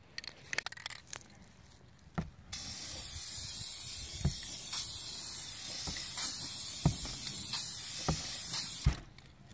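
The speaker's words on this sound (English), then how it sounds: "You're going to want to start off of the item, spray across, and finish off of the item again." An aerosol spray paint can hisses in a long steady burst, close up, painting a valve cover, with a few rattles and clicks before and during the spraying.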